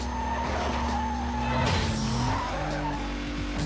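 A Toyota Supra drifting in the racing game Need for Speed Most Wanted, with a loud sustained engine drone and squealing, skidding tires sliding through the turn.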